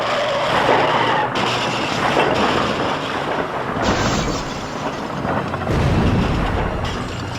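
A car skids along a deserted highway and plunges into a roadside ditch, a loud sustained screech and rumble of tyres and impact noise lasting throughout, with heavy thuds and crashes near the end.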